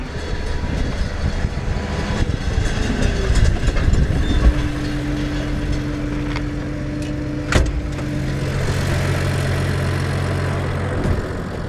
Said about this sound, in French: je suis en train de rouler la surface que j'ai fait hier soir